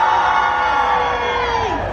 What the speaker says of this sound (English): Everyone cheer! Cheer for the video!